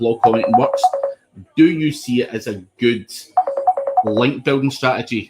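A phone rings in the background during a conversation about link building, sounding as a repeating electronic tone pattern in short bursts under steady talk from two people.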